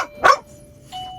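A dog inside an RV nudges a bell hung by the door, giving one sharp jingling ring followed by a softer, brief ring a moment later, close by and otherwise quiet.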